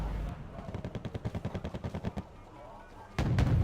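Mortar and gunfire in the Wargame AirLand Battle video game rattle as a rapid, even string of about fifteen muffled reports, followed by a louder blast at the end.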